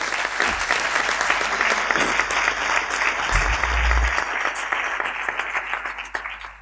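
Audience applause at an award ceremony for the Nóvoa Santos prize, a dense, steady wash of many hands clapping that holds for several seconds and thins slightly at the end.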